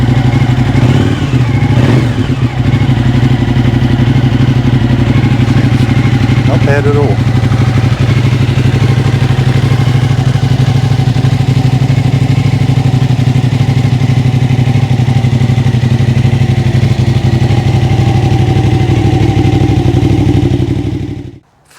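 Suzuki TL1000R motorcycle engine running near the microphone, starting at a fast idle with a brief rev, then settling into a loud steady idle hum before cutting off at the end; someone briefly speaks.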